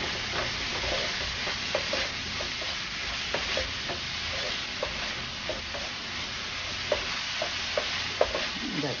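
Tortang talong, an eggplant omelette with ground pork, fries in a pan with a constant close hiss of oil and regular light taps and scrapes from a utensil.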